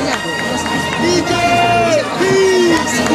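A lively crowd at a summer camp social night cheers and whoops for a group called the Beasties, with loud babble and shouts filling the space and a few rising whistle-like cries over the din.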